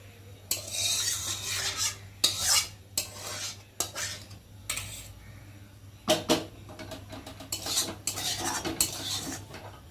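A spoon stirs dal in a metal pan for tempering, with repeated metallic scrapes, clinks and clatter in uneven bursts over a faint background hum.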